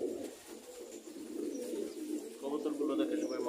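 Pigeons kept as pets coo steadily on a winter morning, a continuous low warbling murmur from several birds close by, with no talk over it.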